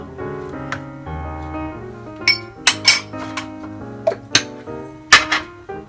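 A utensil clinks and scrapes against a pot in scattered metallic taps while mixing in cumin for chicken dhansak, with sharper knocks toward the end over a soft tonal background.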